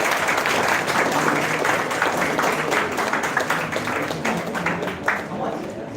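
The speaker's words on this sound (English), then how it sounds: "A good round of applause" A conference audience at a valedictory session breaks into sustained, dense applause, many hands clapping together loudly and evenly for several seconds before thinning slightly toward the end.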